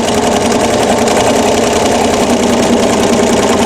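A sewing machine free-motion quilts a feather design on a small practice quilt sandwich, a loud continuous motor hum with fast stitching vibration that runs unbroken throughout, no voices heard.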